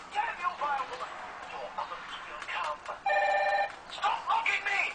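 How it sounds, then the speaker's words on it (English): A telephone rings in bursts, the clearest trill near the middle, under ongoing talk in an indoor space near a bathroom. "You guys hear my phone ringing,"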